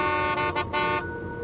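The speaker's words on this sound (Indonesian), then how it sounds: "kalau lewat atau muter di bundaran itu, kita harus membunyikan klakson" A car horn sounds steadily with bright stacked tones for about a second, a couple of short breaks in the middle, then continues more softly, loud and close, blown while passing or circling a roundabout.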